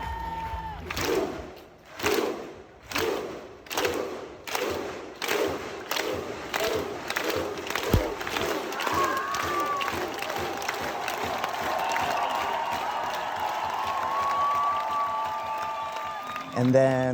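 Arena crowd roaring and chanting in rhythmic swells at a France versus Brazil handball match at the Paris 2024 Olympics, loud and dense, with a steady din and a whistle-like tone rising later.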